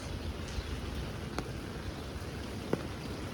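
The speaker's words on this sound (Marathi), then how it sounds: "आत्ता पण पाऊसच येतो आहे, त्यामुळे परत छत्री घेऊनच चाललो आहे" Rain falls steadily in a soft, even patter, with a couple of sharper drips standing out against the wash.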